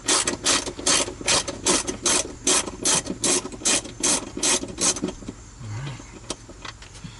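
A hand ratchet loosens the last bolt holding a car's dashboard in, giving a quick series of sharp, close clicking strokes for about five seconds, then stopping.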